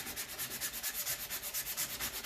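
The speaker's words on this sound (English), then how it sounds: "sand the black off" Rhythmic back-and-forth sanding strokes, about ten regular scrapes of a sanding block across a black painted surface, close and steady with no talking.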